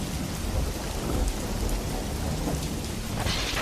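Heavy rain pours down steadily at night with a low, rumbling undertone like distant thunder, a dense and continuous wash of sound with no voices.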